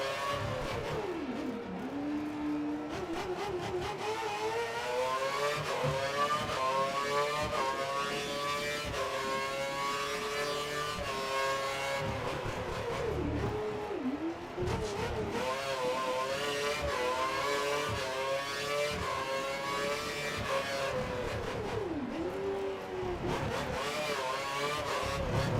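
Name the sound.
F1 2013 race car engine sounding weird, video game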